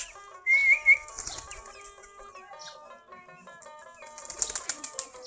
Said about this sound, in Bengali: সবগুলা দেশি গিরিবাজ কবুতর।